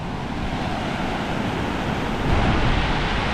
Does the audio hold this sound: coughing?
no